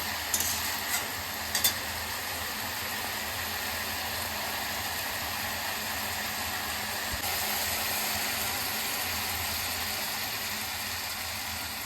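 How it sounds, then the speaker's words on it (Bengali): Water goes into a frying curry of spinach, puti fish and potato, bringing a sustained, even sizzle and bubbling hiss with a few faint clinks early on. "এবার এর মধ্যে দিয়ে দেবো জল"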